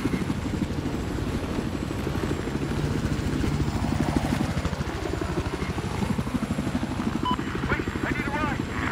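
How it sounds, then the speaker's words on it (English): Helicopter flying in a multiplayer shooter video game, a loud continuous rotor thump and engine drone filling the whole stretch, with a voice talking over it. "I have another chopper here."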